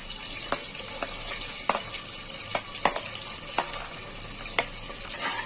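Onions fry in oil in a pressure cooker with cinnamon, cloves, cardamom and fennel seeds for vegetable pulao, giving a soft, steady sizzle broken by scattered small pops and clicks, fairly quiet with no speech.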